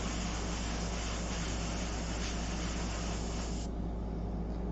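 An airbrush sprays sepia paint in a steady, continuous hiss that runs for several seconds before thinning out near the end.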